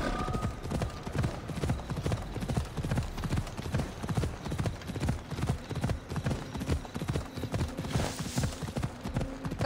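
A horse trots in the Assassin's Creed Odyssey video game, its hooves clip-clopping in a steady, even rhythm at moderate volume for the whole stretch, with no talk over it.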